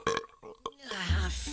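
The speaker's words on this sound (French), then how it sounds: "un vrai rot de troll" A cartoon troll lets out a loud, drawn-out guttural burp that rises in a rough, rumbling swell after some short vocal sounds.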